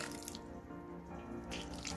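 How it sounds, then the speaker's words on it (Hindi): Half a cup of water is poured into a pan of cooking radish with its leaves for mooli masala bhaji, a soft, steady splashing trickle heard faintly, with no talk. "यहाँ मैंने हाफ कप के बराबर पानी ऐड किया है।"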